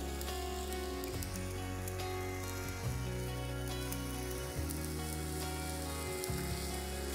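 Food frying on a hot oiled stone outdoors, a steady close crackling sizzle with dense popping, continuous and fairly loud with no voices.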